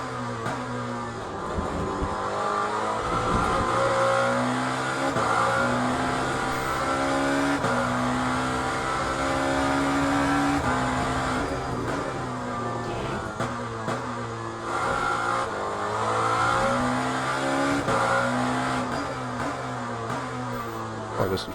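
A race car engine in Le Mans Ultimate revs loud and close through a lap, rising and falling in pitch through gear changes with a steady, continuous roar.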